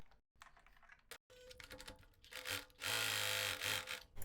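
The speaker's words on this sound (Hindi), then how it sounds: "अब हम इसको यहाँ से पकड़ेंगे और इधर से आधे इंच का मार्जिन लेके सिलाई लगा देंगे।" A sewing machine stitching a kurti seam, short uneven bursts of rapid mechanical rattling that build into a sustained, louder run toward the end.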